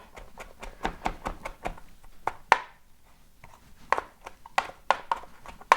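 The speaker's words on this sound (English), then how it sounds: "If we give it a good chop." A knife chops kale on a cutting board in rapid, sharp, close knocks, first in a quick run, then a pause, then a few more scattered strokes.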